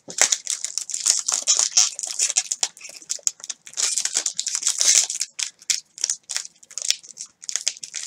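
Packaging on 2018 Topps Five Star baseball cards being worked open by hand, with close, repeated crinkling and crunching bursts in an irregular rhythm and brief pauses between them.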